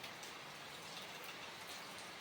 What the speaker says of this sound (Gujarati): હવે શીખવા જઈ હીરાને વરસાદ આવે છે, હવે વરસાદ બંધ થાય ત્યાં જવાનું છે.